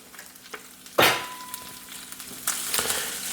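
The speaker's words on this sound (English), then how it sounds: "and just kind of frying that up in there." Olive oil sizzles in a Gipp non-stick pan over medium heat, a soft frying crackle broken by sharp scraping stir bursts near the start and again toward the end, close and with no voices.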